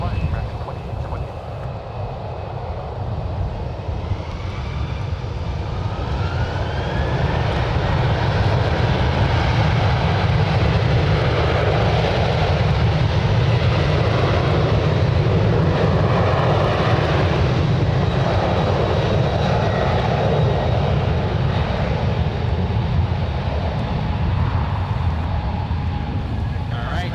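A jet airliner takes off from runway 1 right at San Francisco International Airport, its engines a sustained deep roar that swells and holds steady at a distance for nearly half a minute.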